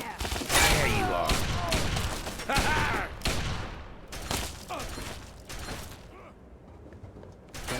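Gunfire erupts in a Fallout 3 firefight, with sharp repeated shots and clattering bursts spread across the scene amid mechanical creaks, loud and busy throughout.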